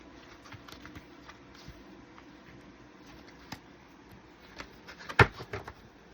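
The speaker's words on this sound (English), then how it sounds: "I gotta shuffle these a little bit different." A large oracle card deck being shuffled by hand, soft irregular taps and flicks of card stock, quiet and close, ending in a sharper cluster of slaps near the end, with no talk.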